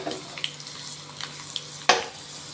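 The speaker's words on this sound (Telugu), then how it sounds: "పావు టేబుల్ స్పూన్ ఆవాలు పావు టేబుల్ స్పూన్ జీలకర్ర వీటిని వేసుకొని మంచిగా పోపు చేసుకోవాలండి" Mustard seeds and cumin tempering in oil, a faint sizzle with scattered small pops and one louder clatter, with no voices.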